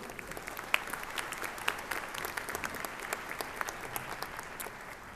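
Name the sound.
applause for the UT Pan American Brass Choir at commencement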